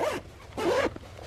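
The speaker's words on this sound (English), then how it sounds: "And then the zip." A zipper on a vinyl-lined cosmetic bag sewn from a single placemat is pulled open in two quick rasping strokes, the second longer, close up with no talking.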